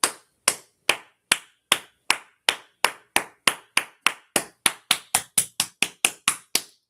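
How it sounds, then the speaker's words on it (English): A single person claps their hands for themselves, about twenty-two sharp, close, evenly paced claps that quicken slightly toward the end, with no other sound between them. "I want to take the time to clap."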